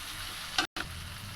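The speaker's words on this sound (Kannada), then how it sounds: "ಈಗ ಟೊಮೆಟೊ ಫ್ರೈ ಆಗ್ತಾ ಇದೆ ನೋಡಿ" Tomatoes frying in a pan for a tomato curry: a steady, close sizzle with a brief stir scrape and one short break.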